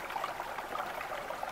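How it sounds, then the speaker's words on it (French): A stream in the Ardennes countryside trickles and babbles in a steady, even wash of running water, close and continuous, with no voices. "Les ruisseaux chantés, l'eau est bonne."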